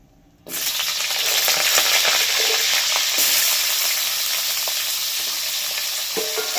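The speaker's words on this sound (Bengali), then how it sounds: "এবার এই তেলের মধ্যে দিয়ে দিচ্ছি গাজর" Thinly sliced carrots drop into hot oil and break into a loud, steady sizzle that starts abruptly and continues close up with a few faint stirring clicks.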